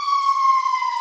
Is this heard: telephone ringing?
no